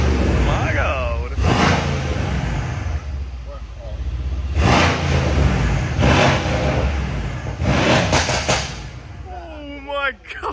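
A Mercedes C63 engine, rebuilt after a crash, runs loudly and revs up in several surges, with people talking and exclaiming over the noise.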